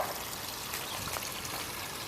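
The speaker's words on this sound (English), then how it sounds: "There's a water feature to the left here." A garden water feature, a small pond with water lilies and goldfish, trickles steadily in a landscaped yard, a soft continuous splashing flow with no talk over it.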